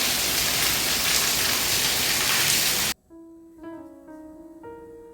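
Steady, dense rain patter hisses for about three seconds, then cuts abruptly to a much quieter scene with faint tonal notes.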